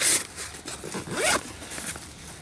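The zipper on a long zip pocket of a Shellback Tactical Lo Key attache briefcase pulled open in a couple of quick, close rasping strokes, with no talk.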